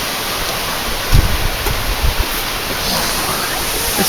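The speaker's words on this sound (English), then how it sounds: "we came across this beautiful waterfall on our way to Namche Bazaar" A high waterfall on the Everest Base Camp trek between Pakding and Namche Bazaar, heard as a steady, broad rush of falling water that fills the scene, with a few brief low thumps near the microphone.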